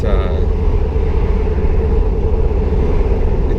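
A 1987 Toyota Van 4x4 LE with a turbocharged 4Y engine on Megasquirt runs under hard throttle, making a loud, steady, close cabin drone and rumble while someone talks over it.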